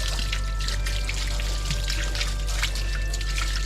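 Water pours and trickles steadily while a puppy is bathed, care taken to keep it out of the ears, a soft continuous stream over a low background hum with no talking.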